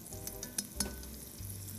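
Onions frying in a pan on a cooking show, a steady close sizzle with a few sharp clinks and crackles and soft low stirring underneath, no voices.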